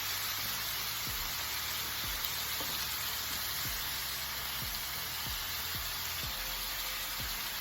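Vegetables sautéing in a hot pan for Cajun dirty rice with garlic, giving a steady, even sizzle and hiss with faint pops throughout and no talking.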